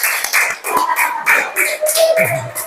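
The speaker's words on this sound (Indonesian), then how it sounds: "Tepuk tangan buat kita semua" A classroom group claps together during a teaching session, close and fairly loud, in a few quick bursts of hand claps, with voices and chatter mixed in toward the end.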